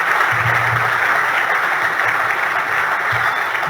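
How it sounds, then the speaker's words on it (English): An audience at an Australian of the Year awards ceremony in Western Australia applauds the nominees, a steady, dense wash of clapping that fills the room throughout. "A round of applause for our nominees for Western Australia's Australian of the Year."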